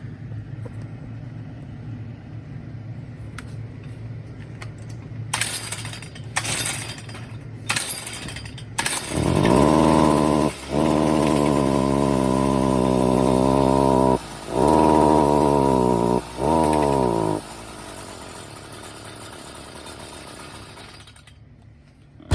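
A Stihl FS55R string trimmer with a suspected fuel, spark or carburetor fault: a few short sputters and pull attempts, then the engine runs loud and close, repeatedly dropping out and bogging down before it fades back to a low murmur.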